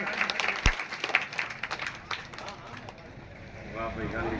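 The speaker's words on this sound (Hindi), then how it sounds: "जोरदार स्वागत, ताली।" Clapping crowd at a Ganesh festival welcome gathering, a moderately loud, steady patter of many hands heard a little way off and mixed with voices.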